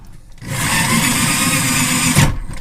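A power drill with a lubricated bit bores a hole into a van body, a loud steady whine running for about two seconds between brief pauses, with no talking.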